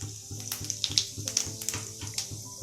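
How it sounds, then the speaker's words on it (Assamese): Whole cumin seeds frying in hot oil for an Assamese mutton curry, giving a steady, moderately loud crackling sizzle with small pops, over a faint repeating tonal background. "মই তেলত দিম কেইটামান গোটা জিৰা"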